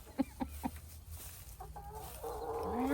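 Hens cluck inside a chicken coop: a few sharp, evenly spaced clucks come first, followed by softer, drawn-out calls and rising bird chatter near the end, with no talk.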